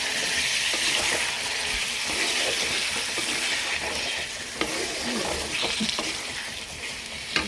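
Ginger, garlic, onion, tomato and green chilli masala fries in a hot pan with a loud, steady, wet sizzle, stirred now and then with a few scraping knocks.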